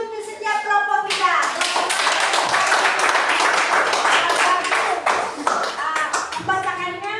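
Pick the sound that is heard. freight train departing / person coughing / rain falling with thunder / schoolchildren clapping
schoolchildren clapping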